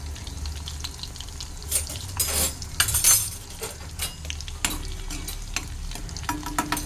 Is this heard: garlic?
yes